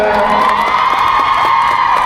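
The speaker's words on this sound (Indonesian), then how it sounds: "Tepuk tangan buat Bang Sala" A studio crowd at a TV entertainment show cheers and shouts loudly and continuously, with high voices whooping through the sustained roar.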